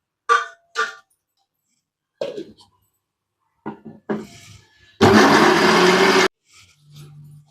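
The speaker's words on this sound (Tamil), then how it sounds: "சுரைக்காய் அரைச்சி எடுத்துக்கலாம்." A mixer grinder grinds bottle gourd for adai batter in one loud, whirring burst of about a second, set among scattered clicks and light taps in an otherwise quiet kitchen.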